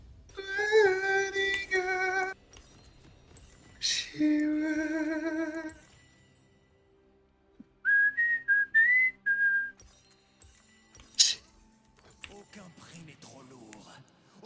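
Whistled notes and short melodic tones in a League of Legends game soundscape, arriving in separate bursts with quiet gaps and a sharp high ping near the end.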